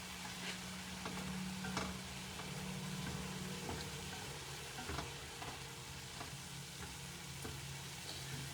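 Ground meat sizzles and crackles in a frying pan with occasional stirring scrapes, a steady faint frying hiss throughout.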